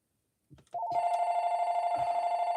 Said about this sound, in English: Mark, want to get this phone?